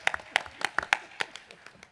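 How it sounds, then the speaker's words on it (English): A brief, sparse round of applause comes from a live event audience, with scattered individual claps that sound thin and somewhat distant, fading out within two seconds. "There's another round of applause there."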